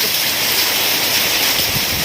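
Heavy rain and hail storm with strong wind pounding a roof, a loud continuous hiss and roar with no break and no talk.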